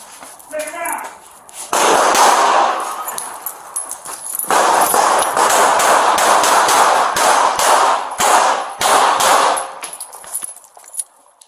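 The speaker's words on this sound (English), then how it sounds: "He's shooting out the window at us." Gunfire rings out during a police confrontation as a suspect shoots from a window at officers, with sharp, rapid cracks in dense clusters and voices shouting nearby.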